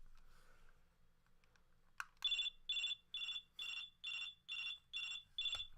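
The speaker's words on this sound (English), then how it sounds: "So this is the ringing. And like, as you can tell, this thing's pretty loud for a phone." A loud telephone ringtone trills in eight evenly spaced bursts, each a bright electronic warble with short gaps between, close and clear over a quiet background after a brief click.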